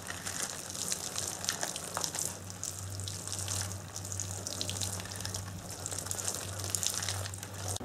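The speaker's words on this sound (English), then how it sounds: "next we're gonna put some water in each of these just to allow them to soak a little bit" Water streams steadily into plastic seed-starting cells in a quiet indoor space, a soft continuous trickle over a low background hum.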